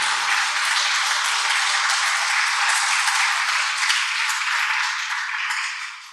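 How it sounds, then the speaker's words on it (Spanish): Church congregation clapping as an offering of praise, a bright, steady wash of applause heard alone for about six seconds before fading at the end. "Dale la ofrenda de palmas al Señor,"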